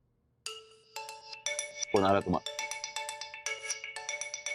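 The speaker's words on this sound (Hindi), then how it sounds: "जरा फोन उठा दो" A phone ringtone plays a repeating bright electronic melody, fairly loud and close, with a brief burst of a voice over it partway through.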